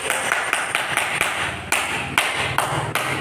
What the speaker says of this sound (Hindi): फिर ताली बजा लेते हैं